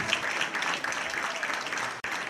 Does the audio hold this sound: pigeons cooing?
no